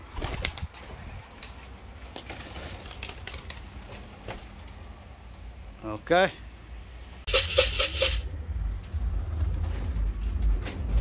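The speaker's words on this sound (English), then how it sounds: "in my hand is a bird that came inside my loft and he ate and drank" A racing pigeon in a home loft flaps its wings in brief bursts, one short flutter and then a longer, louder beating. Someone talks nearby for most of the clip.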